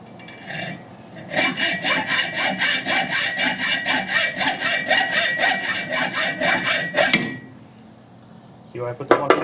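A hacksaw cuts through wood in steady back-and-forth strokes for about six seconds, close and fairly loud, then stops. A short scrape or clatter follows near the end, while building a small tractor hitch.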